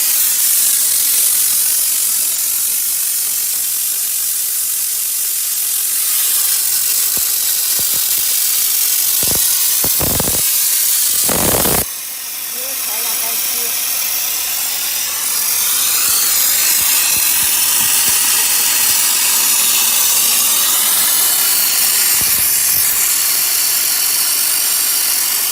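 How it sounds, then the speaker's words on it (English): An LPG-fired steam car wash machine hisses loudly and steadily while building pressure toward 10 bar, broken around the middle by a few sharp clicks and a short pause, then a strong continuous jet of steam. "steam has coming out. Wait until the pressure reaches up."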